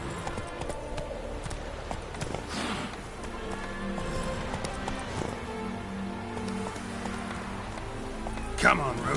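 Hooves of the ridden horse Roach clip-clop steadily at a gallop in a PS4 video game, a continuous running rhythm layered over game ambience.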